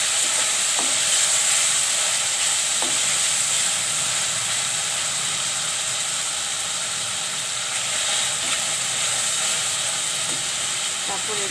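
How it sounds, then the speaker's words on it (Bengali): Ginger and garlic frying in a pan for a chicken curry, a steady close sizzle and hiss with occasional faint stirring clicks throughout. "আদা রসুনটা একটু ভেজে নেব"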